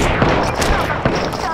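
Dense automatic gunfire from an Apex Legends match, a loud continuous burst of rapid shots with a few sharper cracks standing out, close and filling the whole moment, with a voice speaking briefly beneath it.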